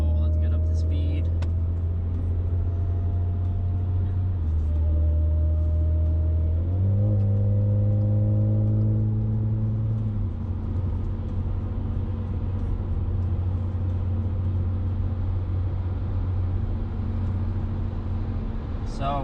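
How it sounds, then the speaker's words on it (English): An Audi S5 with a custom exhaust, X-pipe and deleted center resonator cruises on the highway at about 70 mph, giving a loud, steady low drone whose pitch steps up and settles as engine speed shifts, under constant road and wind roar. "going back on the highway with the X pipe and the center resonator deleted"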